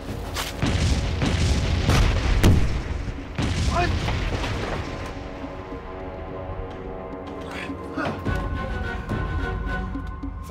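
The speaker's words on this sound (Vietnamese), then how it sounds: "Bắn đạn tín hiệu" A signal flare is fired in a wartime drama scene, with a few heavy booming blasts up front, then a long, fading rumble and scattered softer pops.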